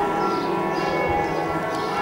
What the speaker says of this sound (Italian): in sottofondo si sente il suono delle campane